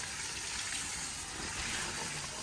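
Water runs over a TRD K&N air filter during rinsing, a constant close rush and gush of spraying water with no breaks.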